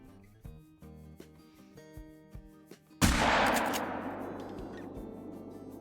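A 12 gauge shotgun slug fires once in a hunting video game, a sharp loud blast with a long decaying rumble, after a few seconds of soft clicking game sounds.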